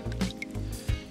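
Wet fishing groundbait being mixed and turned over by hand after water is added, giving short squelching, squishing bursts close by with no talk.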